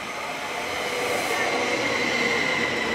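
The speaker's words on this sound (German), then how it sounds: "Ah, das ist mein Zug." A train pulls into a station with a loud, steady rolling roar and a thin squeal of wheels that rises toward the end, filling the scene continuously.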